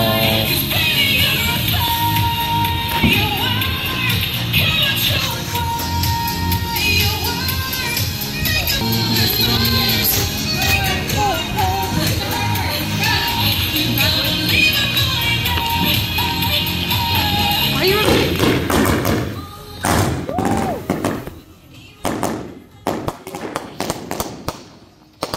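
A 24-shot cake of 3-inch firework shells goes off in a rapid, loud barrage of crackling bursts for about twenty seconds, then a few scattered pops as people cheer and talk.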